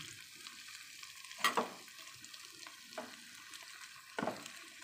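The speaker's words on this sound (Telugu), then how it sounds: "రైస్ అంతా కలిసేలాగా కలుపుకుందాం" Brinjal rice being stirred and mixed in a pan, with soft scraping strokes and a few louder clatters of the spoon against the pan over a faint background hiss, no talking.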